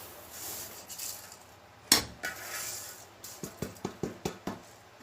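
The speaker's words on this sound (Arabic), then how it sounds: "نقلب مع بعض كده السمسم اهو" Sesame seeds being stirred for halawa in a metal pot, a spoon scraping and then a run of sharp, rhythmic clinks against the pot, close and fairly quiet.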